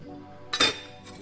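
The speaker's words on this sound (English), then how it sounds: "So fill a double old fashioned glass with ice" Ice clinks into a double old fashioned glass with a brief, bright tinkle and a fainter second clink just after, heard close and alone.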